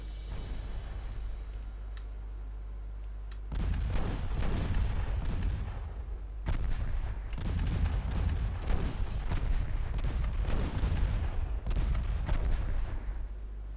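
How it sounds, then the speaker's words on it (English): Five-inch secondary naval guns firing broadside from a US medium cruiser in Ultimate Admiral Dreadnoughts, a rapid irregular series of loud booming shots over a low rumble, continuing steadily after a quieter opening. "5-inch guns are coming into range. Let's give it a little bit more broadside so those secondaries can actually fire"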